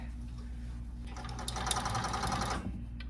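Blind hemmer sewing machine stitching the bottom hem of drapery fabric, a low steady motor hum that swells into a faster rattling run of stitches for about a second, close and fairly quiet, with no talk.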